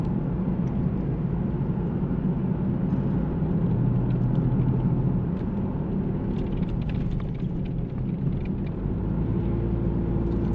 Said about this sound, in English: I have winter tires on this car now, so it's pretty quiet, to be honest.